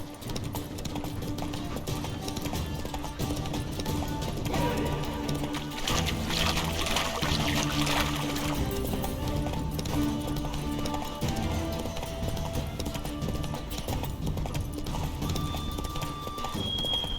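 A horse gallops in The Witcher 3, with rapid, steady clip-clop hoofbeats running loud and continuous under game music and ambient effects.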